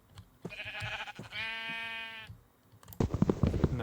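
Sheep in Minecraft bleating, two drawn-out wavering baas close by, one after the other, followed by a burst of other game noise.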